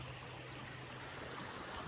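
Jack's Creek at mile 5 of the Ozark Highlands Trail, flowing steadily; a close, even rush of running water with no voices.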